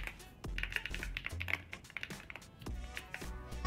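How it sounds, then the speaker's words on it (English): Fingers type on a YUNZII AL75 mechanical keyboard with an aluminium case. Keys make crisp, close clicks and clacks in an uneven burst, with a few heavier thocks mixed in, and no talking. "The case is made of aluminium, and the keys have a pleasant sound."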